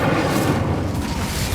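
Incendio fire spell cast in Hogwarts Legacy, a continuous loud rumbling fiery roar with a booming low end, steady and close throughout without pause.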